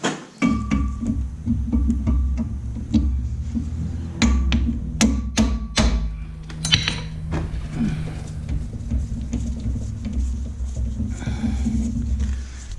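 Sharp metallic hammer strikes ring out in irregular bursts during rear brake and rotor work on a 2012 Hyundai Accent, several close together around the middle, over a steady low mechanical rumble.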